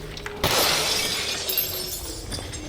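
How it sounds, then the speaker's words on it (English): Glass shatters in the video game Stalker Anthology, a loud sudden crash followed by a long tinkling spray of falling shards that slowly fades. "Shatterable glass. I did not see that coming."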